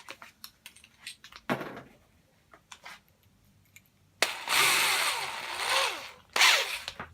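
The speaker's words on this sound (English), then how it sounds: "Pre-drill the holes, of course." Power drill pre-drilling holes in a house wall for mounting a decoration box: a short whir comes first, then a loud sustained drilling run and one more burst, with small clicks and handling sounds in between.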